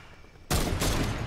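Gunfire in a shooting video game: after a quiet half second, a sudden loud, dense burst of rapid shots runs continuously to the end.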